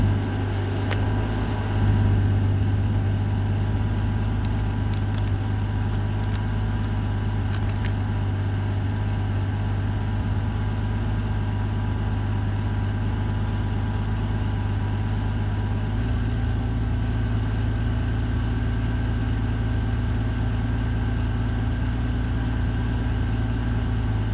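A 1965 Ford Econoline van, a former Bell Telephone van long in storage, idles steadily and smoothly with a constant low engine drone throughout, close and unbroken.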